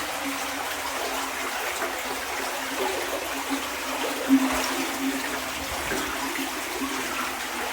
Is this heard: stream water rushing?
yes